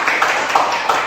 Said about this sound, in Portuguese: Mas gostaria de dar palmas.